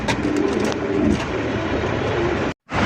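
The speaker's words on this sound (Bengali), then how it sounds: "লাল টুকটুকু একজোড়া বোম্বাই কবুতর" Pigeons, a pair of red Bombay pigeons among fancy breeds, cooing softly amid a noisy background hum, with a brief dropout near the end.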